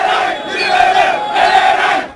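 A crowd of scrap metal dealers and recyclers protesting in Dakar, Senegal, shouts together in two loud surging cries, voices massed and chanting.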